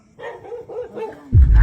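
A dog barks and yips several times close by in a short, loud burst, ending in a louder, rougher bark.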